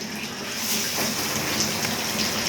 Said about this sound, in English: Like a little bit of a water leak going through the system.